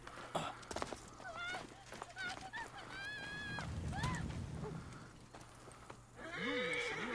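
A horse in Assassin's Creed Origins gives a loud whinny near the end, after a stretch of trotting hoofbeats and scattered game sounds amid a crowd of townspeople, all fairly quiet overall.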